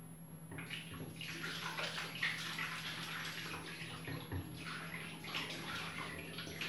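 Water rinsing skin during a home spa routine, a steady close splashing and running-water wash that continues throughout, with no talking.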